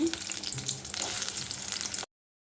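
Onions frying in a pan for a Bengali dish, a dense, close sizzle with stirring scrapes running steadily for about two seconds before cutting off abruptly into silence.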